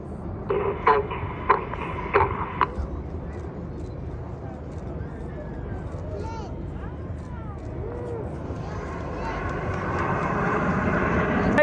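Red Arrows jets performing a flying display at a seaside air show in Bournemouth, their engine roar swelling toward the end beneath a loud public-address commentator describing the manoeuvres.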